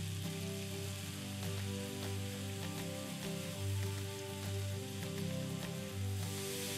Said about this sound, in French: Sautez les juliennes de légumes 2 minutes à l'huile d'olive avec l'ail.